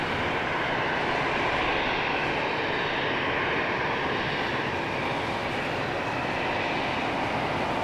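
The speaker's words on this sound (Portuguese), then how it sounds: "os aviões hoje estão a levantar e a aterrar ao contrário do sentido habitual" An airplane roars at Madeira airport on runway 23, a loud, continuous broadband engine rumble that holds steady throughout without any voices.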